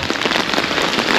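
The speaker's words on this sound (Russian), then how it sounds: "В парке дождь." Heavy rain pours down in a seaside park in Lazarevskoye, Sochi, as a loud, dense hiss with rapid patters on nearby surfaces.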